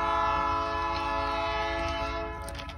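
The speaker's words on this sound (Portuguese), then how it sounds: "Vamos ver o trem agora chegando aí, ó." An arriving train sounds a long, steady horn blast beside the tracks in Londrina, Brazil, a loud, continuous chord held for nearly three seconds over a rumbling low background, fading slightly at the end.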